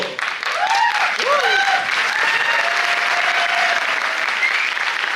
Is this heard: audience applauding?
yes